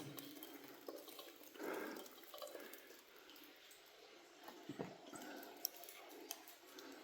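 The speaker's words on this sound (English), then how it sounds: "Water dripping through the ceiling." Scattered drips and splashes of water from the ceiling echo in a quiet, hollow underground space in the Mosshead Mines, Old Man of Coniston, Cumbria, with a faint steady background hiss.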